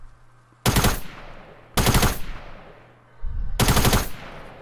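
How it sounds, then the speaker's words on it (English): Gunfire in the video game Fortnite, three loud separate bursts of rapid shots, each cracking sharply and trailing off, with quiet gaps between them. "I took pot shots"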